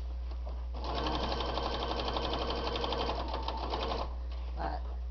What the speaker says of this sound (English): This is the longest part of the whole thing, is sewing around here.